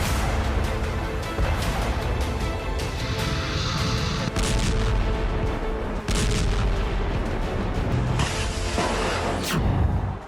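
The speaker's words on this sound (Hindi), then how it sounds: "यूक्रेन में धमाके जारी हैं।" Explosions and artillery fire from the Russia–Ukraine war around the Azovstal plant in Mariupol. A dense, continuous roar carries sharp bursts and heavier booms, loud throughout with no voices.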